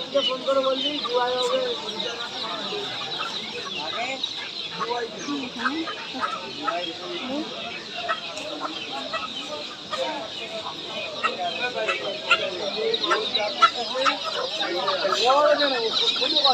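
Chickens and chicks cluck steadily at the Galiff Street pet market, a dense, continuous layer of bird calls with voices talking over the flock throughout.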